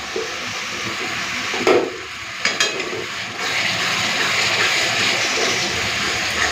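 Spice paste with a splash of water sautés in a pan for an elephant yam and shrimp curry, a steady close sizzle with a few stirring knocks and scrapes, no talk.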